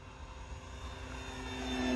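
FMS Pitts V2 1400mm RC biplane flying inverted, its electric motor giving a steady droning buzz at a distance that swells slightly as throttle is added.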